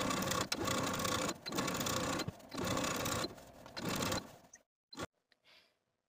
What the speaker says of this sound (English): We're going to sew the lining to the seam allowance about 1/8 of an inch away from the original stitching line